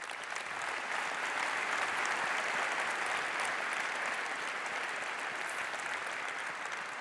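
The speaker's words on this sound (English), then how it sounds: "Let's give them a round of applause." Sustained applause from a conference audience thanking an events team, a dense, steady wash of clapping lasting several seconds with no voices on top.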